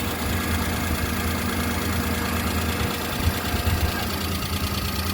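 A 2008 Maruti Suzuki Alto LXi engine idles steadily nearby, a constant low rumbling hum with a faint rhythmic knock throughout.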